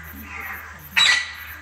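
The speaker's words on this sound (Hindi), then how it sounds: "ये तोता बोल रहे हैं ना" One short, sharp parrot squawk bursts out near and loud over a quiet, hissy background.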